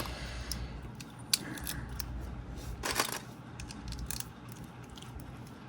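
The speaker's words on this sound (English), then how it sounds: "I'm gonna make a small cut here." Scissors make a small cut while a Lego Ninjago dragon is being built, a few quiet close snips with one sharper click partway through and a brighter burst near the middle, no talking.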